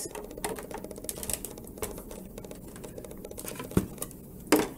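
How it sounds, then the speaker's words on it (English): A die-cutting machine rolling a paper envelope die through, with quick steady mechanical clicks ticking along and a couple of louder clacks near the end, close and quiet with no speech. "You hear the clicking sound, that's fine. That's just letting you know it works."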